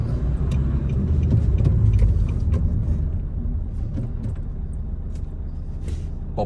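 A Nissan NV200 van pulls away in first gear, its engine rumbling steadily up close with a deep continuous drone and faint road noise.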